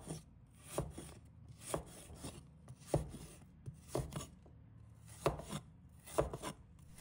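Fresh ginger is sliced with a knife on a cutting board, giving about eight crisp, evenly spaced chops over several seconds. The strokes are close and clear, with no talking.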